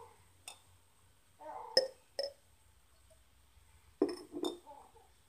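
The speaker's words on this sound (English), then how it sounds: "the first thing we're going to do is we're going to put our egg into our jar. We want to put it in there gently so it doesn't crack." A raw egg set gently into a glass jar gives a few quiet, separate clinks and taps against the glass, spaced out over a near-silent background.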